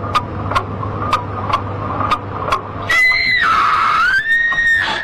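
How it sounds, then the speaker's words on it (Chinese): A woman's long, wavering scream rises and falls loudly for about two seconds, following a few seconds of steady, evenly spaced pendulum-clock ticks over a low hum. "女友从电话中就听到摆钟及一个女人的尖叫声"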